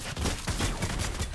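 SMG gunfire in the Fortnite video game, a rapid burst of closely spaced shots fired in quick succession, loud and close.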